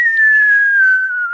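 A person whistles a single sustained, clear tone that glides slowly downward in pitch, loud and close, with no talking over it.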